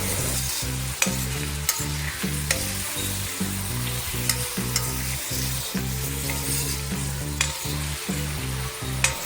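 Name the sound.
onions sautéing and caramelizing in a pan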